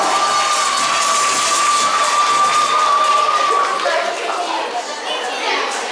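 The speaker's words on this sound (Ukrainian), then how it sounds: "Давайте оплесками їх привітаємо і надамо прекрасному голосу слово." A studio audience at a Ukrainian game show claps and cheers to welcome the jury, a dense, loud wash of crowd noise that holds steady throughout, with a faint steady tone running under it for the first few seconds.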